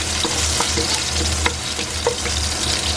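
Garlic sautés in hot oil in a wok, giving a dense, steady frying hiss with occasional soft stirring taps. It is close and constant, with no talking.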